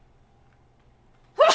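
A single short, sharp sneeze bursts out loudly at the very end after near silence, close to the listener.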